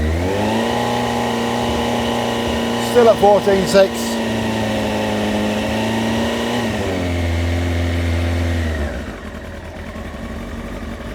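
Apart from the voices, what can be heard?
motorbike engine revving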